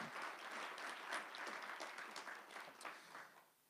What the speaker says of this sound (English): Can we have a round of applause for that panel?